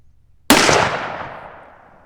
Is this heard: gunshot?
yes